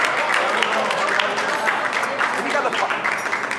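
Wedding guests clap warmly as a man comes up to speak, a continuous fairly loud patter of many hands with slight variations throughout.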